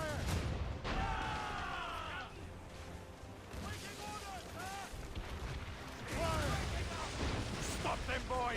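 Ship cannons boom repeatedly during a naval battle in Assassin's Creed Rogue, a dense barrage of heavy blasts under crew shouts, sea and battle noise, with voices calling out throughout.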